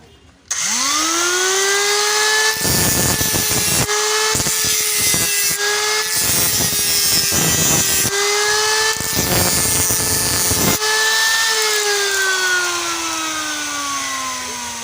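A grinding tool cuts into a homemade helicoil coil used to repair stripped exhaust pipe threads. A loud, steady motor whine rises and dips, broken by repeated harsh bursts of grinding contact, with no talking.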